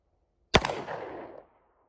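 A single sharp pistol shot at a range, cracking loudly then decaying in a short reverberant tail, with no voices.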